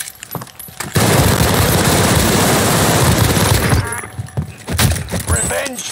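Call of Duty gunfire: a sustained, loud burst of rapid automatic fire lasting about three seconds, followed by scattered shots and clatter with a voice speaking.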